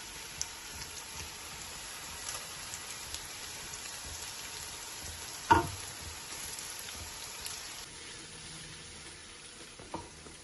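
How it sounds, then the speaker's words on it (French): Onions and smoked fish frying in a pan for a Central African spinach and fish sauté, a faint, steady low sizzle throughout with one sharp utensil knock partway through. "je rajoute le poisson fumé dans les oignons que je fais revenir"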